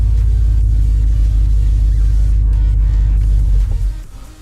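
A Jeep SRT engine with a freshly installed E85 conversion kit idles with a steady, loud, deep rumble, then drops away sharply near the end as it shuts off. No one speaks.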